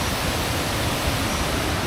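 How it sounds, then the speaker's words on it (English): A waterfall seen from a trail near swimming pools in the jungle, a steady broadband roar of rushing water, constant and fairly loud, with no voices. "we're starting to get some views of that waterfall now"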